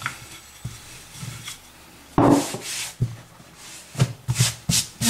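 Floured croissant dough is rolled out into a rectangle, giving soft irregular rubbing and thumping strokes with a few sharper knocks of the rolling pin, close and quiet.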